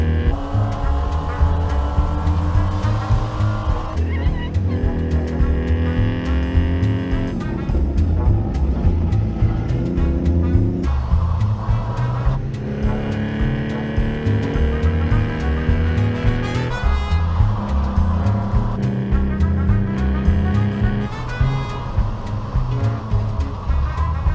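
Pro3 race cars on a circuit roar loudly as engines rev up and drop through repeated gear changes, giving a rising and falling droning whine that stays close and continuous.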